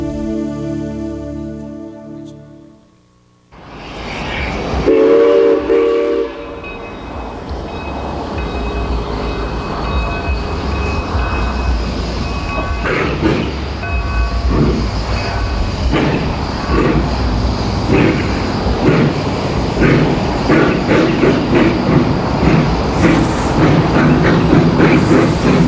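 A steam train on the V&T line crosses the highway at New Washoe City, its rumble rising after a brief lull into loud, continuous rolling clatter with rhythmic wheel clicks, close by and unbroken by talk.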